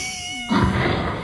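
A cat's sudden sharp sneeze bursts out loudly at close range after a quiet moment, followed by a brief noisy tail.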